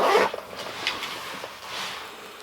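A zipper on a Vanquest EDCM Huge 2.0 organizer pouch is pulled open in a quick close rasp, followed by faint handling rustles of the fabric case.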